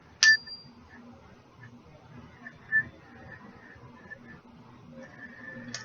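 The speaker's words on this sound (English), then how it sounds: "all the dinging of the bell" A small bell dings indoors with a sharp ring at the start, another around the middle and one at the end, over a faint, low background.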